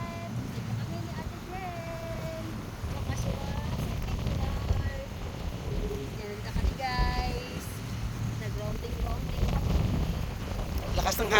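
Strong wind buffets the microphone with a low rumble and gusts, while a few faint voices and distant sounds come through underneath.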